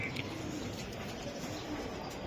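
A giribaj racer pigeon coos close by against a steady, dense background hiss, with soft murmuring throughout and no clear words.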